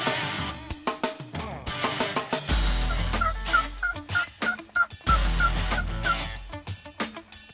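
Rio wild turkeys gobbling during a Kansas spring hunt, several loud, close, rattling gobbles repeating in quick bursts, mixed with other fowl calls and no talk.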